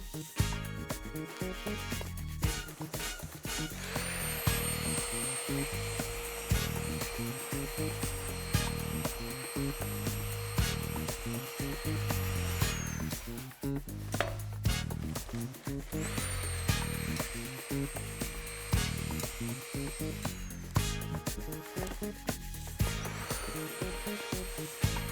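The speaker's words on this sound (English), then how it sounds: "condition the surface area with a nylon material. With a nylon web, this has got a direction of rotation." A rotary power tool fitted with a nylon web pad works a stainless steel weld surface, producing a loud, gritty grinding whir that rises and falls in repeated passes with brief pauses.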